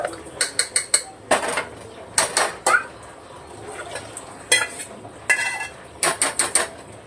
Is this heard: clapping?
no